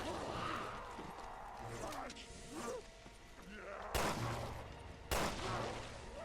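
Gunfire from the video game Resident Evil Revelations 2 in Raid Mode: two sharp, loud broadband shots stand out near the end, set over a busy game soundscape while a player talks throughout.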